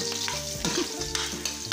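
Squid frying in hot oil in a pan, sizzling steadily while being stirred, with brief scraping stir sounds close by and no voices.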